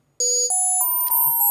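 A Massive X synth layer bell wavetable set to full wavetable position plays a short sequence of sustained bell-like tones, each struck note ringing steadily into the next, clear and close with no talking.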